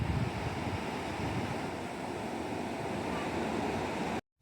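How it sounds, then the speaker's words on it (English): Waves wash onto a beach in Valencia at sunset, a constant broad surf roar with wind buffeting the microphone, steady and close before cutting off abruptly. "At sunset, we made it to the beach."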